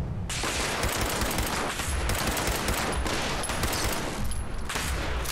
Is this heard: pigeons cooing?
no